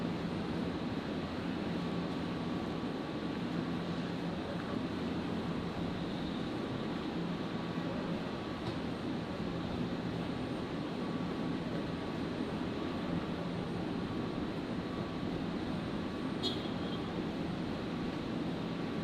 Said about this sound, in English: So Qatari 777 just cleared for departure